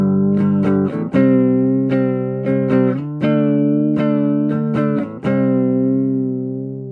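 Sustained electric guitar notes and chords run through a deep modulation effect, pitch wavering in pronounced swells like a whammy bar pushed and pulled, loud and close with no voices.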